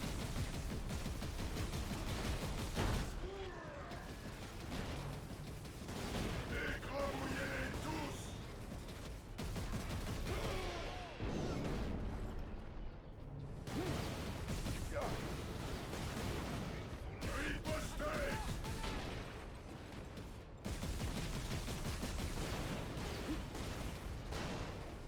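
Dense, layered gunfire and explosions from the video game Warhammer 40,000: Space Marine rumble almost nonstop for about 25 seconds. The sound sits at a low, steady level, broken by a few short lulls.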